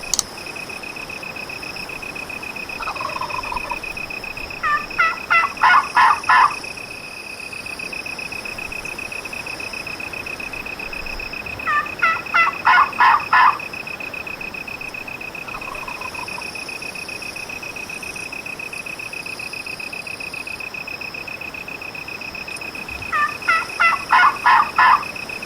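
A wild turkey gobbler gobbling in three separate rattling bursts spaced several seconds apart, moderately close, over a steady high insect-like drone.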